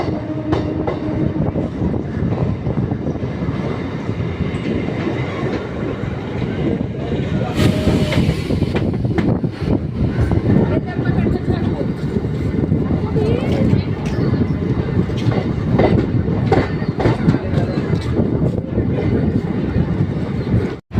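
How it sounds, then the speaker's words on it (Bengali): A passenger train runs on the Sealdah–Bolpur line just after leaving Bardhaman Junction, with a loud continuous rumble and rhythmic wheel clatter throughout. A brief brighter rushing swell comes partway through, and voices can be heard under the noise. "বর্ধমান জাংশন দিয়ে কিন্তু ট্রেন ছেড়ে দিয়েছে"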